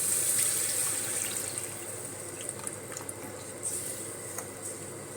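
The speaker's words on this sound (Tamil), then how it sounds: "இப்போ புளி ஊற்றிக்கலாம்" Tamarind water is poured into a simmering nethili (anchovy) fish curry, giving a soft, steady liquid splashing and trickling that fades slightly over several seconds, fairly quiet, with no talking.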